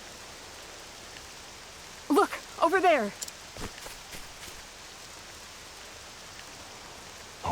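Steady rain hisses across the scene in the video game Octopath Traveler II, a soft constant wash that continues beneath a short spoken line.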